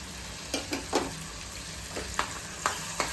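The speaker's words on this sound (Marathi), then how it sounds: "एक कांदा टाकला त्यात थोडासा लाल होईपर्यंत तो परतत राहायचा" Onion frying in a pan for Malvani chicken liver masala, a constant close sizzle with several soft scraping stirs and taps spread through the short stretch, and no speech.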